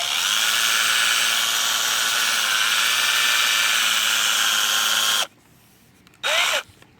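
A power drill with a sanding attachment, working a car headlight with flaking UV coating at 2000 grit, whirs steadily at high speed for about five seconds, stops, then gives one more short burst.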